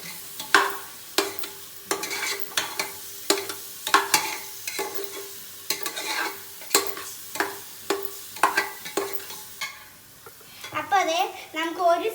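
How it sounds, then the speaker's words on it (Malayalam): Biryani masala is stirred in a pan, with a spoon scraping in a steady rhythm of about one stroke per second and a light sizzle underneath. It ends in a brief, higher, chirpy sound; no one speaks. "നല്ലപോലെ ഇളക്കണം"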